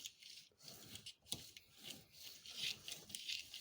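A faint, close scraping and rubbing noise from a Vauxhall Cavalier Mk3 strut unit, irregular and gritty, like metal parts grinding against a worn seal, with no talking.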